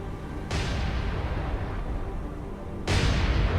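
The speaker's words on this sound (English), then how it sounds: "it might be time to fire over some of those Starlight rounds once again" A warship's naval gun fires star shell rounds in the War on the Sea game, two heavy booms a couple of seconds apart, each followed by a long rumbling roll.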